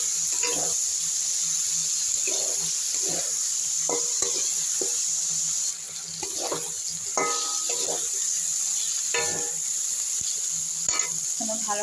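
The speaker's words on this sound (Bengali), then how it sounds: "ভালো করে মশলার সঙ্গে কষানো হয়ে গেছে" White radish being stir-fried with spices gives a soft sizzle under repeated scraping and clinking spatula strokes in an irregular rhythm, close and moderately loud, with no speech.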